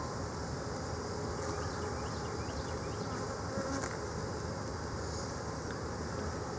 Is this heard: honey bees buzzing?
yes